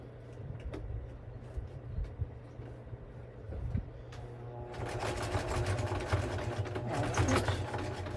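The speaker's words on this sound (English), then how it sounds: "So I've got this side sewn. I'm going to go down through here and sew this side." A sewing machine runs the side seam of a zipper pouch, starting with a softer mechanical hum and then stitching louder and faster with a rapid, rattling rhythm up close, no voices.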